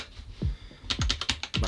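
Several quick keystrokes on a mechanical keyboard with red-style, only slightly clicky switches, heard up close as a short irregular burst of taps after a brief pause.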